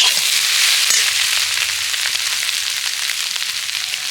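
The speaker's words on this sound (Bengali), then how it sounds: "আলুটা দিয়ে ভালো করে একসাথে আবারও আমি এইভাবে একটু হালকা করে ভেজে নেব" Potato filling fries lightly in a hot pan with a steady, dense sizzle and crackle that holds at an even loudness throughout, close up and with no voices over it.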